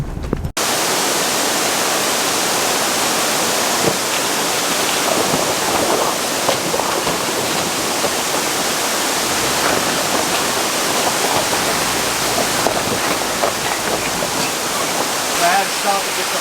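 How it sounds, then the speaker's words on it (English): A waterfall roars in a continuous, dense rush of broadband water noise, loud and close, sustained for the whole stretch with no talking heard. "Stop and get the photo here of this beautiful waterfall."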